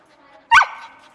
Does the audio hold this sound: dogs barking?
yes